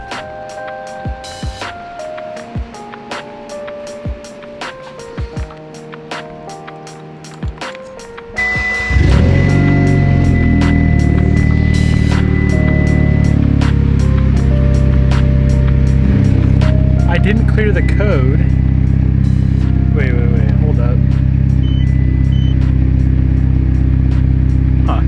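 Clicks and taps give way to a Mitsubishi Evo engine starting and idling steadily, a loud low rumble that keeps running close by.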